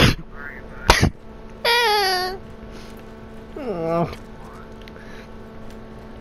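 A person's sudden, sharp sneeze bursts out near the start, a single loud explosive blast, followed by strained vocal sounds and a squeaky, rising whine that might be a pet; no clear words are spoken.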